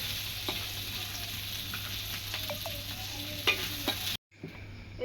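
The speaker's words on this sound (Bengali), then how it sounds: "সবগুলো মাছ ভাজি একবারে মাছ মশলা করে ভেজে নিছি" Fish coated in spices fries in a pan with a steady, close sizzle and occasional stirring clicks; the sizzle briefly cuts out near the end, then resumes more quietly.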